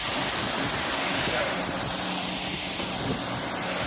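A pressure-washer spray rinses one side of a car, giving a steady, loud, continuous hiss with no breaks.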